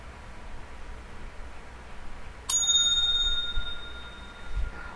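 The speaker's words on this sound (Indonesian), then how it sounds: "timer ini sudah menandakan 15 detik terakhir, kalian juga akan membunyikan bel sebanyak 1 kali." A single bell strikes once, marking the final 15 seconds of a debate speech timer; the bright ring starts sharply and decays slowly over a steady background hiss, with no talk.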